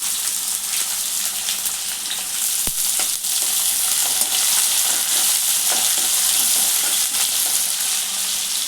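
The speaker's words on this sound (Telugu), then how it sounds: "ఉల్లిగడ్డ వేసుకుందాం" Chopped onions sizzle and fry in hot oil in a pan for puffed rice upma, a steady, close, crackling hiss throughout with a few sharp ticks, no voices.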